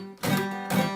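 Two quick guitar chord strums with a choked, muted attack, each cutting off abruptly, played close and alone.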